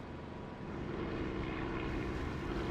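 Aircraft engine drone from a flight simulator game with the throttle pulled right back and the canopy open, a steady continuous hum that swells slightly and holds alone with no talking.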